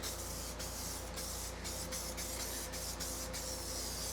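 An aerosol can sprays black paint onto an aluminum radiator for a Dodge W150 pickup, a steady close hiss running the whole time, broken by a few short pauses.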